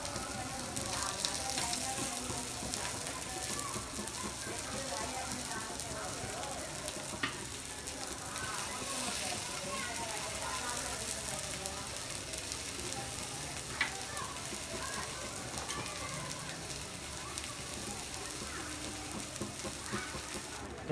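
Aloo toast laid potato side down in a hot pan on low flame, giving a steady broad sizzle and crackle of frying with occasional soft clicks, fairly quiet and continuous.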